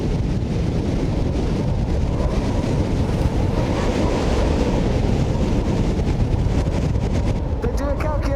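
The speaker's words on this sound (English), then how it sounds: "65, maybe 70 miles an hour worth of wind." Strong wind of roughly 65 to 70 mph on the summit of Mount Washington, roaring and buffeting the microphone in a loud, steady rush that never lets up.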